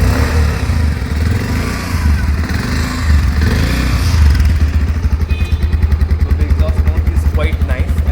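An Avenger motorcycle starts up, first a rough churning crank, then the engine catches and settles into a loud, close, rhythmic thumping exhaust idle.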